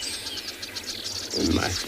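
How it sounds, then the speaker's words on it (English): A musk weaver calls in the open bush at sunrise on safari, its bright chirps repeating amid a busy chorus of other birds and steady background hiss, with no talking. "Musk weaver."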